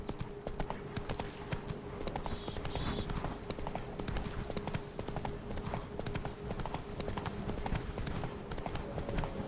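Rhythmic clip-clop of a galloping horse in The Witcher 3, steady hoofbeats running throughout at close range over a busy game soundscape with a low hum.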